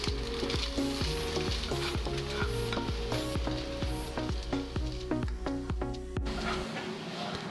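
Beef and grated carrots being stirred together in a frying pan for spaghetti bolognese, heard as a constant sizzle under a fast, regular run of clattering utensil strikes against the pan, close and fairly loud.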